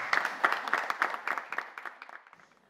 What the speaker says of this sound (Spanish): Vamos a recibir a Perla con un aplauso.